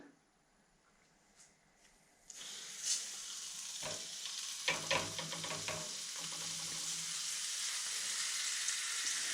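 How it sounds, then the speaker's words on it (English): Olive oil sizzles steadily in a frying pan after a quiet start, with a few clattering knocks as flour-dusted fish goes in, then a continuous bright frying hiss. "And fry the fish for a few minutes on both sides."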